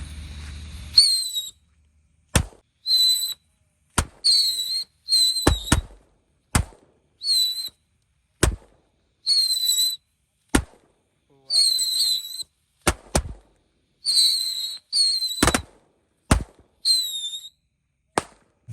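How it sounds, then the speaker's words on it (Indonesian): Tikusan whistling firecrackers and jumbo firecrackers go off at a night Ramadan fireworks party, a rapid series of sharp loud bangs interleaved with shrill rising whistles, roughly a dozen bursts over several seconds, close by with no talk. "ini ada mercon tikusan tor 1 pak kita nyalakan sekaligus"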